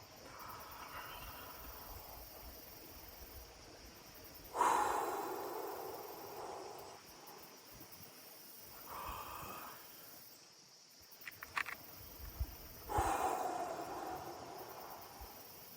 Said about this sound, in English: So I'm doing my breathing. I'm counting to 3 or 4 on my inhale, kind of holding it inside